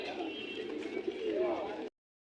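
Pigeons at the Tongi bazaar pigeon market coo softly and continuously for a couple of seconds, mixed with nearby market chatter, before cutting off abruptly.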